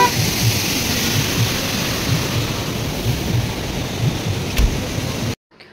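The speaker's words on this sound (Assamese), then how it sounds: "বৰষুণ দিয়াৰ কাৰণে ভালো লাগিছে বাট অলপ বেয়াও লাগিছে মনটো" Steady rain pours outside a Buddhist monastery at Tiger Hill, Darjeeling, a dense even hiss with low thunder rumbling underneath, ending in a sudden cutoff to silence.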